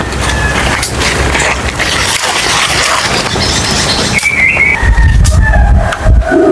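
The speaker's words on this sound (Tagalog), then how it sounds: "Oh, naririnig mga idol may mga ibon." Wild birds calling outdoors in a rural Philippine setting, with several thin whistled notes scattered among rustling and handling noise, some fairly close and loud.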